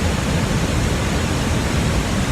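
A waterfall roars in a loud, steady, unbroken rush of falling water, close by and filling the whole scene with no voices.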